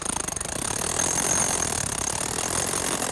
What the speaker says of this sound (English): we're drilling a line of holes down the length of the granite where we want the split to